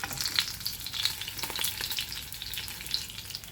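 Boal fish pieces fry in oil in a pan, a steady close crackling sizzle with scattered sharp pops running the whole time, no voices.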